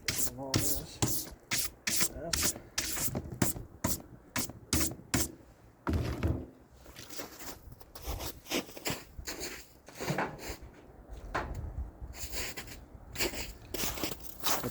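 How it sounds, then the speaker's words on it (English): Brisk, irregular scrubbing of a brush over wooden snowshoes, close and fairly loud, with bursts of rapid strokes broken by short pauses and no talking. "now I'm just going to brush everything clean and put a coat of wax oil on it."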